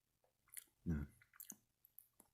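Candy crunches under chewing, close to the microphone, with one loud bite in the middle and several smaller clicks and crunches after it, spaced unevenly across a quiet background.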